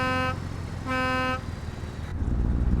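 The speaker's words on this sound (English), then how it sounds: "How does the horn sound?" A car's standard horn blares close and loud in two sustained honks separated by a short gap, followed by engine rumble and road noise.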